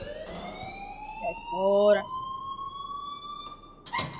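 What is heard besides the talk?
school alarm ringing in the video game Life is Strange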